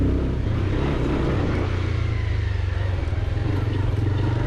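A Bajaj Pulsar 220 F motorcycle rides off-road, its engine droning steadily and close with a low rumbling hum, alone and without voices.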